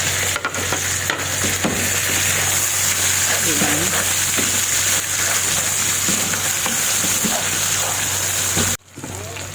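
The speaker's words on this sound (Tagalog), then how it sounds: "igigisa ko na yung bawang" Garlic sautéing in butter in a pan for pork steak, a steady loud sizzle with occasional stirring throughout before cutting off near the end.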